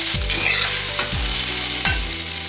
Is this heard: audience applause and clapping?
no